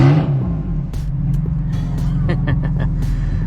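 A BMW M4 with aftermarket downpipes and VRSF intakes, in M2 mode with its exhaust valves open, sends out a loud, steady, deep engine drone that holds and builds, with a person talking over it.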